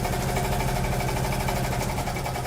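A sewing machine stitching fabric for a face mask storage pouch gives off a steady, continuous mechanical whir, close and even in level from start to end, with no talking.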